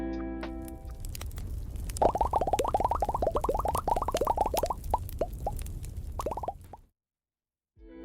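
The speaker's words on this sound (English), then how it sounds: "They play plop sounds that are changed in pitch while the typeout coroutine is running in the node parser." Short pitch-shifted plops patter rapidly in a steady stream from a video game character's speech, bright and close, stopping abruptly before a brief silence.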